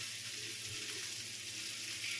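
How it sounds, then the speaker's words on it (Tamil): Quiet, steady sizzling of tomatoes sautéing with salt in a pan, a soft continuous hiss with no talking. "இப்போ தக்காளியும் போட்டு வதக்கிக்கலாம்"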